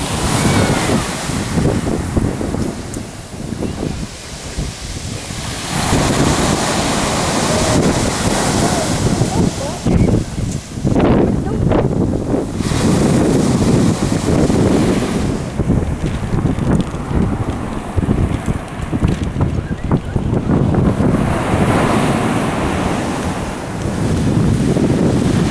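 Sea waves crash continuously onto the shore at Bray, Ireland, in a loud, steady roar of surf mixed with gusty wind rumbling on the microphone.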